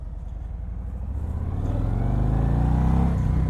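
A Harley-Davidson Road King motorcycle accelerates hard with the throttle twisted, its engine note rising steadily from a low rumble to a loud, sustained roar close by, with no talk.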